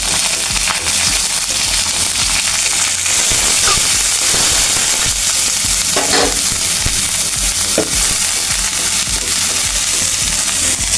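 Shredded cabbage sizzles and crackles in ghee with garam masala, a loud continuous frying hiss with scattered sharp pops and occasional stirring scrapes, with no voice over it.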